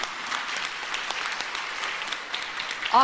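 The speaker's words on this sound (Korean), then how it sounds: "박수 쳐야지" Audience applause fills a church conference hall, a steady, dense clapping that continues without a break from start to finish.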